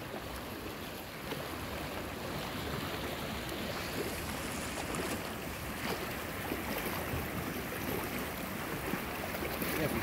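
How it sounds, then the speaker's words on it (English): Flowing water at a waterfall in Amberg, Wisconsin in winter, a steady broadband rush that stays constant throughout, fairly loud and near, with no talk. "I like that sound of the water."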